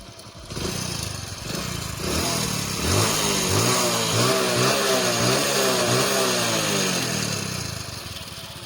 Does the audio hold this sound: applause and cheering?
no